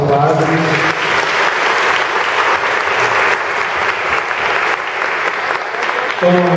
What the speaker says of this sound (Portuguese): vamos dar uma salva de palmas ao Padre